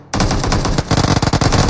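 Rapid automatic gunfire from PUBG Mobile, a dense, loud burst of repeated shots that starts abruptly and runs without a break.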